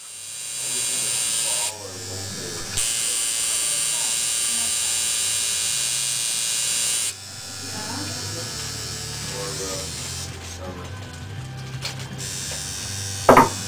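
A tattoo machine buzzes in steady stretches as its needle works into skin, loud and close with a high whine, stopping and restarting while people talk quietly between runs.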